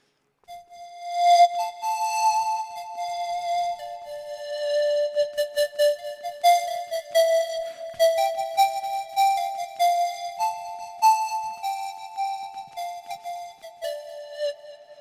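A breath-controlled Grain synthesizer in Reason, played through a wind controller, sounds a sustained melodic line of swelling, breathy tones with shifting pitches and clear note changes, heard alone.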